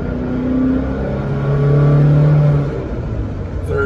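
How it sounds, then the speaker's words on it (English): A 1987 Alfa Romeo Spider Quadrifoglio pulls in second gear, the engine note rising steadily as it accelerates, loud and close from inside the car, then easing off. "This is 1987 Alpha Spider driving video"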